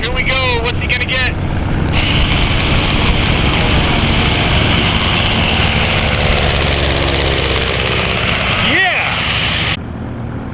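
A blue and white Cessna Skywagon light airplane flies low on the downwind leg over a desert playa, its steady propeller-engine drone loud and continuous against wind, with people talking and a brief whistling sweep near the end.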